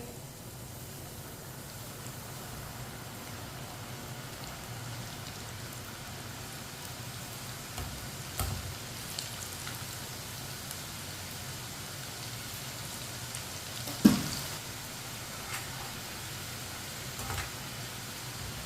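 Namak pare, a salty fried dough snack, frying in hot oil at home, with a steady soft sizzle and crackle throughout and a brief louder pop near the middle.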